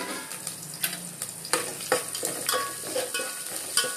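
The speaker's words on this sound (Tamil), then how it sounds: "கடுகு, உளுத்தம்பருப்பு, வேர்க்கடலை, பெருங்காயம், கடலைப்பருப்பு, காஞ்ச மிளகாய், கருவேப்பிலை எல்லாத்தையும் எண்ணெயில் போட்டுடணும்." Mustard seeds, urad dal, peanuts, chana dal, asafoetida, dried red chillies and curry leaves fry in hot oil with a crackling sizzle, punctuated by quick spoon stirs and small pops.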